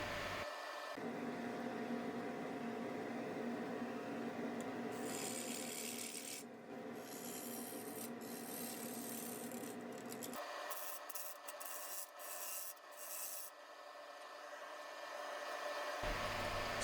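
A skew chisel strips bark from a spinning log on a wood lathe, giving a steady, loud grinding rasp with a continuous motor hum underneath and choppier scraping toward the end, with no voices.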